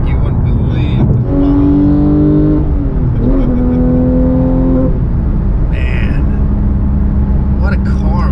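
A Porsche with a manual gearbox revs hard, the engine note climbing in pitch in a couple of rising sweeps before settling back into a loud, close drone.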